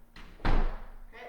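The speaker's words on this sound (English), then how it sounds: "shutting the door" A door is shut firmly while a workout strap is knotted and anchored on its inside for an EMOM session: one loud, close, heavy slam-thud with a brief resonant tail against a quiet room.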